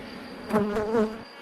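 Honeybees buzz inside an open hive with two brood frames, a close, steady humming drone that swells a little in the middle of the short stretch and then eases off.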